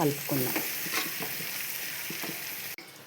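Dry fish curry with cumin-coriander powder being stirred in a pan, a few scraping strokes over a soft sizzle that cuts off sharply near the end.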